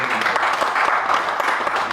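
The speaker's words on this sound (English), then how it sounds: "This alone deserves a big round of applause from all of us." Audience members at a Nigeria Pitch Awards gathering give a big round of applause, close and dense clapping that holds steady throughout with some voices mixed in.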